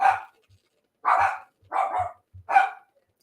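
A dog barks four times in a loose rhythm, sharp and fairly close, with brief quiet gaps between the barks and no voices.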